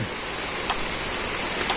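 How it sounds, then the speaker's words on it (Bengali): Rain beginning to fall over a village, a steady even hiss of drops with a few faint louder patters, no voices. "বন্ধুরা তো বৃষ্টি নামছে"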